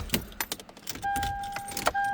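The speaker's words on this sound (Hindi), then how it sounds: "इसका इग्निशन यहाँ से मैं जी ऑन कर रहा हूँ" Keys jingle and click as the ignition of a Toyota Land Cruiser Prado is turned on, followed by a steady electronic dashboard tone that holds, pauses briefly, and resumes.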